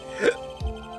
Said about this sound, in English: I'm having hiccups from the milk.